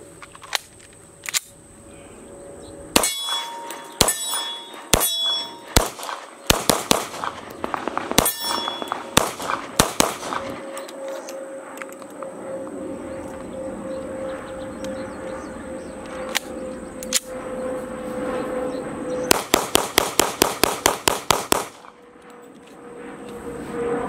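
Sharp gunshots from a Stoeger Cougar .40 S&W pistol fired at an outdoor range, single shots spaced apart early on, then a fast string of about eight rounds near the end, each with ringing echoes.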